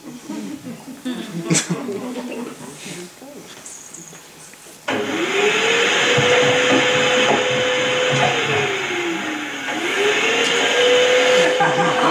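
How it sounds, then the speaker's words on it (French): A vacuum cleaner starts partway through and drones steadily across a living room, its pitch dipping and rising as it moves, after an opening stretch of talk and room noise. "Traverser le salon avec son aspirateur."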